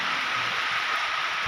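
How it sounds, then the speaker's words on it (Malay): Heavy rainstorm in a remote forest, a dense, steady roar of downpour that stays loud and unbroken throughout, with no voices. "Lagi hujan badai."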